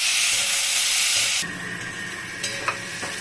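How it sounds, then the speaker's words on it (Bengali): Onions added to browned garlic fry loudly in a pan with a bright sizzle, which suddenly drops to a softer hiss halfway through, followed by a couple of faint clinks. "এখন পেঁয়াজটা ভালো করে ভাজবো আমি।"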